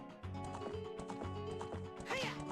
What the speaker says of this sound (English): Come on, Link, get on the horse.